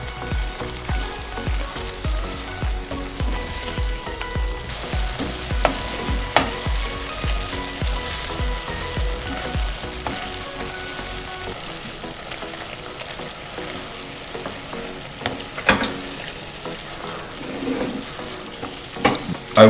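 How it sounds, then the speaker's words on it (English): Meat for ragu bolognese sauce sizzles steadily in a hot pan, a continuous loud crackling hiss with occasional sharper pops and stirring scrapes, no talking. "It's important to let the meat sizzle because it's going to leave a certain flavor"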